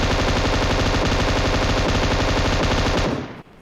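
M249 machine gun in the PUBG Mobile video game fires one long, loud, unbroken burst of rapid automatic shots. It runs steadily for about three seconds, then cuts off abruptly. No one speaks.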